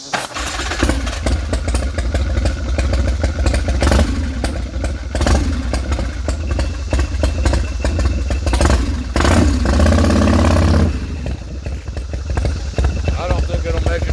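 An old twin-cylinder motorcycle with manual pressure relief valves on each cylinder clatters as it is started and then runs roughly and loudly close by, the engine note rising briefly before easing, with someone talking over it.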